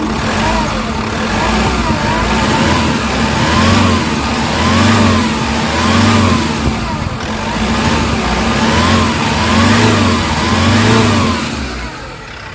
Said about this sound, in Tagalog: Narinig nyo yung galit ng engine guys.